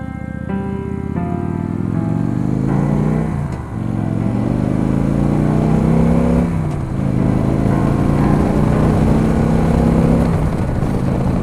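A Victory Judge motorcycle pulls away under steady throttle, its engine note rising and falling through several gear changes as it accelerates, loud and close throughout with no talking.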